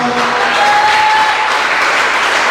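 Continuous loud applause fills a Sunday church service as the congregation claps for the Lord, dense and even throughout with no speech over it.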